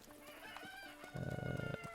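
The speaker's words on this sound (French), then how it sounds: "Ne pas attaquer les poules." Chickens cluck in Zelda: Breath of the Wild, with a dense burst of clucking across the second half, close and fairly loud over faint game ambience.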